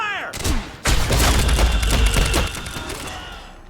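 Rapid bursts of gunfire from a firefight in the video game Quantum Break, a loud, dense volley of shots with booming impacts after a brief lead-in, tailing off toward the end.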